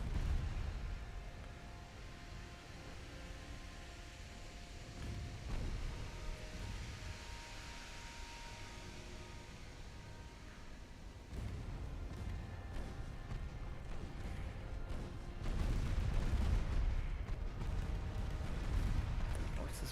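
Naval artillery fire from warships in the naval combat game Ultimate Admiral Dreadnoughts: a steady broadband rumble of distant gunfire and booms, with heavier low thumps later on, all under a continuous noisy battle bed.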